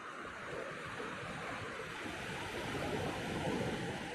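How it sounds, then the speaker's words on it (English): Ocean waves wash onto a beach on Florida's Space Coast, heard as a faint, continuous, broad rushing surf with a little wind, with no voices. "the waves might be too loud"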